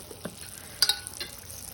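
Pala boorelu fry in oil with a faint, even bubbling sizzle and a few light clinks and scrapes from a utensil, close by and brief, with no talking.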